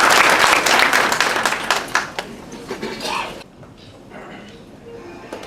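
A ceremony audience bursts into loud, dense applause that thins out over a few seconds into scattered claps, then fades to a quiet room murmur.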